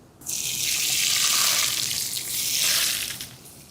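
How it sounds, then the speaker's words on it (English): Hot oil poured over aromatics while cooking shrimp: a loud burst of sizzling hiss erupts and holds steady for about three seconds, then dies away quickly. "That's hot oil flashing."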